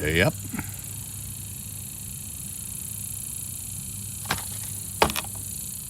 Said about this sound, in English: Don't mind those cicadas.